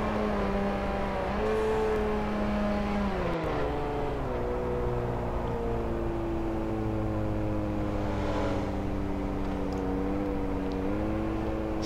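An 815-horsepower Nissan S15 drift car in Virtual Formula Drift screams through a run, its engine note rising and falling with repeated revving and gear shifts.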